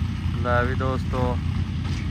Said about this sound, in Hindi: आ गया ट्रैक्टर और कंबाइन ने भी हॉर्न मार दिया है